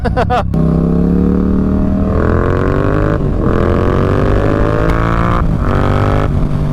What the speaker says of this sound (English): how many other motorcycles in this price category are going to sound like that?